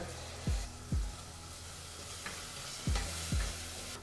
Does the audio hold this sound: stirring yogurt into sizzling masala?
yes